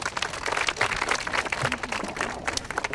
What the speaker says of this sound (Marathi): जोरदार टाळ्या त्यांच्यासाठी होत्या